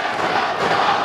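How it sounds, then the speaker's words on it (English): A packed wrestling crowd at a tribute show roars in a loud, sustained wash of cheering with no break. "Listen to this crowd. They're on fire."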